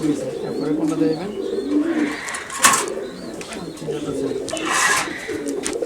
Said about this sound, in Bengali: এটা জ্যাকোবিন কবুতর এটা আসল